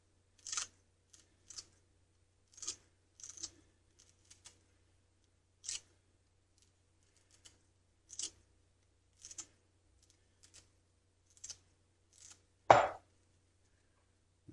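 Green onion from the garden snipped into potato salad, a dozen or so crisp, quiet cuts at an irregular, unhurried pace, ending with one louder knock, no talking.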